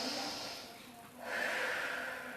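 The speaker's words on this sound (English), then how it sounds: "Let's have 2 breaths here" Two long, deep breaths are taken during a Pilates exercise with weights: a drawn-out airy inhale, a brief dip, then a second breathy exhale, close to the mic with no words.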